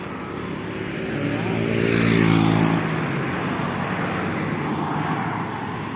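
Highway traffic heard from a motorcycle on a Sunday ride, a steady broad roar of engines and wind with one vehicle swelling louder as it passes close around the middle, then settling back to a constant rumble.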